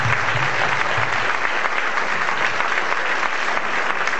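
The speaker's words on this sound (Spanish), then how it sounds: "para quienes pido un aplauso sincerísimo" A crowd at the Mar del Plata Jazz Festival 2013 breaks into dense, sustained applause that fills the whole stretch at a steady loud level.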